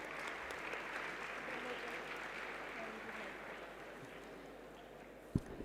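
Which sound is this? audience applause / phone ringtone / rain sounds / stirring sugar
audience applause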